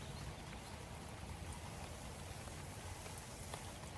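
Continuous rain falls evenly, a broad hiss of drops hitting surfaces nearby, with no voices and no change in intensity.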